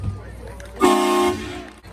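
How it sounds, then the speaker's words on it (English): A single train horn blast sounds at an outdoor U.S. military veterans' honoring ceremony: a loud, steady, harmonic tone held for about half a second, rising out of quiet background murmur and then fading. "there's also going to be a blast of a train horn"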